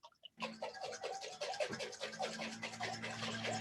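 Salad dressing is shaken hard in a closed container to emulsify it, giving a fast, continuous sloshing rattle close by after a brief quiet start, with no voices.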